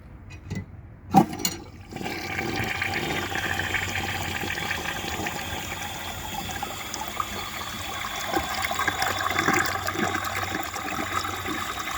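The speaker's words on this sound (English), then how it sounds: "This toilet has an absolutely amazing flush" A restored 1945 Standard Cadet toilet flushes with a sharp start, then a strong, steady rush of water as the tank refills, close and continuous with no talking.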